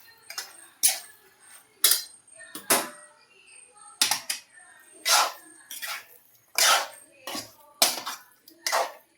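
Chicken pieces being stirred through masala in a pot on a Kerala-style stove, producing a series of separate scraping clinks of spoon against metal in an irregular rhythm, close and moderately loud with quiet gaps between strokes.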